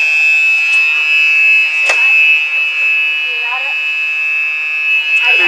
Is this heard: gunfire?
no